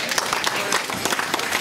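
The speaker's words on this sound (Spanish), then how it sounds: "Fuertes aplausos, que se escuche." Applause from an audience at a school award ceremony in Ayutla, Mexico, honoring a student with top grades; dense, steady clapping throughout at moderate loudness.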